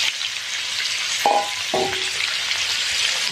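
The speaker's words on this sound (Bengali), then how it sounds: "ভালো করে ভেজে দেবো।" Potato pieces sizzle steadily in hot oil, seasoned with salt and turmeric, a constant dense frying hiss with two brief clinks of a utensil partway through.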